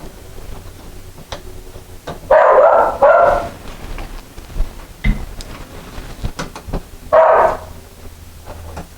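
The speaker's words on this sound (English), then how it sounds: "I guess you can hear my dog barking in the background there." A house dog barks in the background, with short sharp barks in three bursts spread across a quiet room tone.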